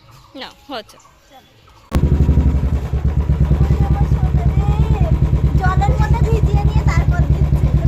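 A motorcycle engine starts abruptly and runs at a loud, steady idle with a regular rapid thump close by, while people talk and a voice rises over it.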